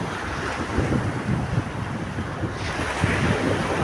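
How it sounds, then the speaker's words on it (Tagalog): Strong outdoor wind rushes steadily across the microphone, a loud, constant roar with slight swells and no voices. "Lakas ng hangin."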